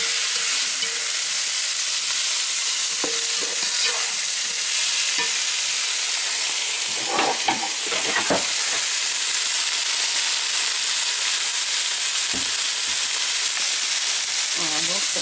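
Salted fish with tomato cooks gently in a pan, a constant close sizzle and hiss with scattered stirring knocks and scrapes.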